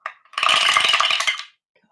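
Dice tumble down through a dice tower in one dense burst of bright clicking and clacking that lasts about a second, close and fairly loud, then stops cleanly.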